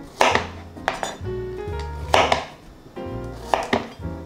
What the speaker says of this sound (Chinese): 准备一条小黄瓜，去头去尾，接着切成段状